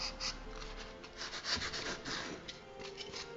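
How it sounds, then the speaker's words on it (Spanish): A utility knife cuts a circle out of expanded polystyrene foam for a glass jar lid, giving a steady close scraping and rubbing with short squeaky strokes, no voices. "con un cúter comenzamos a sacar la circunferencia. Podemos ir cortando así,"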